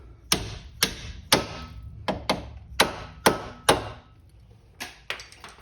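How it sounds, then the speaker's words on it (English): A hammer strikes metal repeatedly, driving bolts out of a front strut on a Kia Rio, about a dozen sharp ringing blows in an uneven rhythm, close and loud with brief pauses. "hammer these bolts out"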